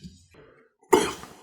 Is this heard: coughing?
yes